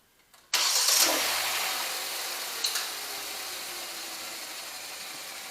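A 2016 Hyundai Elantra engine starts in a garage setting: a brief starter crank, then the engine catches with a sharp burst and settles into a steady, loud idle that slowly eases down.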